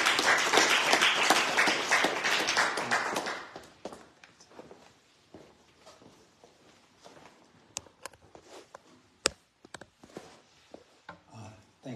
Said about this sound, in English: I'm glad you're applauding